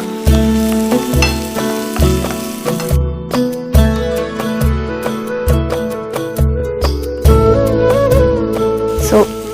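Asafoetida and spices fry and sizzle in a pan while being stirred, with loud, rhythmic bursts of scraping and clatter repeating roughly every second over a steady hiss, close up and with no talking.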